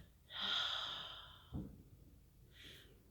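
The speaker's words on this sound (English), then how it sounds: "take another deep breath" A slow, deep breath is drawn in and released in a long, soft exhale during a relaxation exercise, followed by a short snort-like breath and a fainter second inhale, close and quiet.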